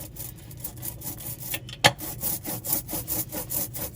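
A rubber brayer rolls lino printing ink out on a flat surface, a rhythmic tacky rasping that repeats in quick even strokes, close and moderately loud with no talk.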